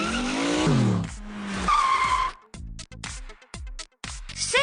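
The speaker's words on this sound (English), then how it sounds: "She jumped in the fancy sports car and sped off to the royal ball." Cartoonish video game sports car sound effect with tire squeal and engine revving as the car speeds off, followed by a choppy stretch of short bursts, loud and alone.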